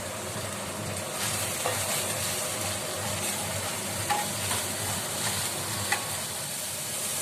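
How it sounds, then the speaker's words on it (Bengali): Spice paste of ground coriander and cumin sautéing with a little water in a pan, a steady close sizzle and hiss with occasional light stirring scrapes, no talk. "এবার আমি এইটা সামান্য পরিমাণ জল দিয়ে একটু কষে নেব।"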